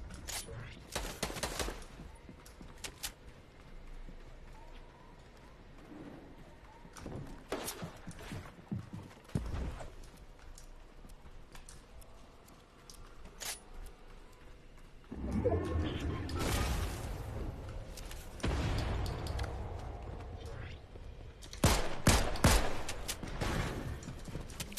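Gunfire in a video game arrives in scattered sharp bursts and volleys, sparse and moderate at first, then louder and denser rapid fire toward the end.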